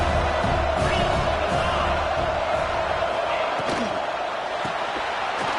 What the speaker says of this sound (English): This Auburn crowd trying to conjure up a little magic here on third down